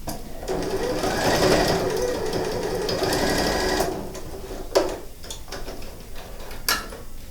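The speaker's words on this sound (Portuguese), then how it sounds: "Passo uma costurinha de segurança bem na beiradinha." Sewing machine running a steady stitch along the edge of a zippered pouch lining, loud and close for about four seconds, then a few clicks and taps as the stitching stops.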